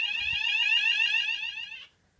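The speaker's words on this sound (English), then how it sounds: "Fire alarm's going off." A fire alarm from a bedroom system test, set off by breaking the call point glass, sounds loud and close as a rapid warbling electronic tone for almost two seconds and then cuts off abruptly.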